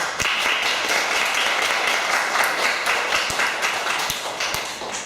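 Congregation in a church service applauding the worship and praise team, a steady wash of many hands clapping with a few sharper individual claps, continuous and fairly loud throughout.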